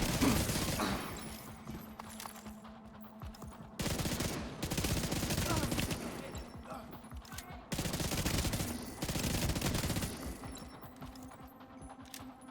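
Sustained bursts of rapid video game gunfire roar in three or four long waves, loud and dense with brief lulls between, while faint voices and game sounds sit underneath.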